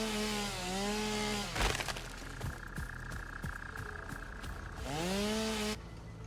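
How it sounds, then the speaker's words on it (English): Chainsaw felling trees in the video game Satisfactory, a sustained buzzing engine whine that rises and falls around bursts of cutting, loud and close with no speech. "I ran out of fuel for the chainsaw."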